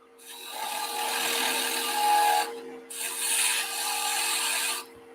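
A woodturning parting tool cuts into wood spinning on a lathe, giving a steady, loud rasping scrape in two long passes with a short break between them and a constant motor hum beneath.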